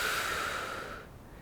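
A single slow exhalation of breath during a seated shoulder stretch, soft and close, tapering off over about a second with no talking.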